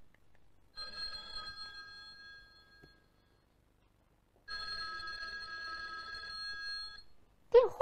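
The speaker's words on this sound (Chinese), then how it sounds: "电话来了，我们来听听看。" A telephone bell rings in two long bursts separated by a pause, clear and moderately loud in a quiet room, followed by a short sharp sound at the end.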